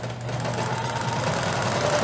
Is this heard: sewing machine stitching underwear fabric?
yes